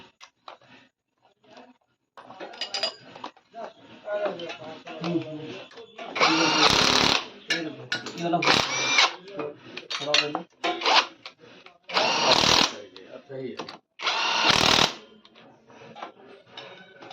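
A power tool tightens clutch plate bolts on a Super Splendor BS6 motorcycle in several short, loud bursts, with someone talking between and around them.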